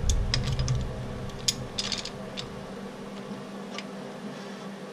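Ratchet cranking a Ford Mustang 289 V8 engine over during valve lash setting: a quick run of close, sharp ratcheting clicks in the first half, fading to a faint, quieter tail.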